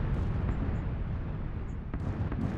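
Muffled booms and rumbling blasts of artillery fire in the battle game PUBG, heavy low-end explosions rolling on continuously with a couple of sharper distant cracks.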